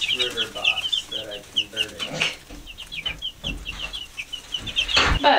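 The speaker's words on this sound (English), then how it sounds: "So that's the little brooder box Joe built. Getting the little chickies nice and warm." Young chicks in a homemade brooder box peep and cheep constantly in rapid, high, overlapping chirps, close and fairly loud, with occasional handling thumps.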